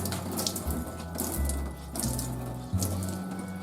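Tap water runs steadily over noodles in a colander at a kitchen sink, a close, constant splashing hiss that shifts in tone a few times as the noodles are moved under the stream.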